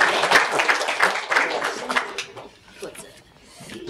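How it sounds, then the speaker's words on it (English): Church congregation applauding during a Sunday worship service, a dense burst of clapping for the first two seconds that thins out and fades to scattered claps. "It is okay to clap in recognizing their talents and gifts."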